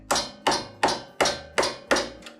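A small chisel is struck six times in an even rhythm to break the gasket seal on a cover of a Husqvarna YTH21K42 mower engine, giving sharp close metallic taps about half a second apart.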